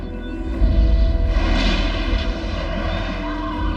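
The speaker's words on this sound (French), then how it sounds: "Je reconnaîtrai le son de ce moteur entre mille." A deep, rumbling engine roar of Wheeljack's ship in the Transformers: Prime cartoon swells and hums steadily, a heavy sci-fi craft drone filling the space without any talking.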